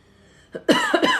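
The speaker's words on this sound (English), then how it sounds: "As you can tell by my cough" A single short, harsh cough bursts out close up, preceded by a small throat sound.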